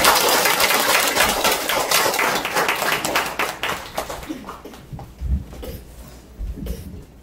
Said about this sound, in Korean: 네, 박수로 받겠습니다.